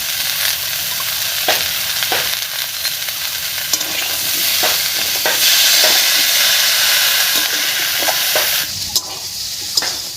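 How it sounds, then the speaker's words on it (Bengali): Ground spice pastes of chilli, cumin, ginger, coriander and fennel sizzle steadily in a pan for a vegetarian jackfruit curry, with repeated sharp scraping strokes of a spoon stirring them throughout, loud and close, no talk. "মশলাগুলো দিয়ে ভালো করে মিশিয়ে নিয়েছি"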